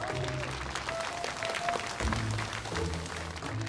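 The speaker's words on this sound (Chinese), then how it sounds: "让我们用热情的掌声有请我们的新郎登场" Applause rises to welcome the groom at a wedding, a steady clapping wash mixed with crowd noise and tonal background music, continuing for several seconds.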